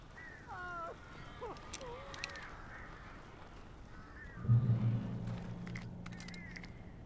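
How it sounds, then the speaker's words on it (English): Crows caw in Alan Wake Remastered, with several harsh calls early on and a few more later against eerie game ambience, followed by a low, loud rumble near the end. "These birds are weird."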